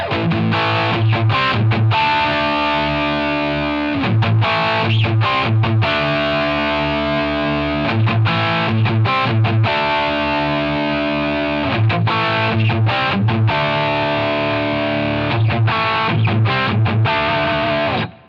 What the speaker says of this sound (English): my dark tone has gotten a lot darker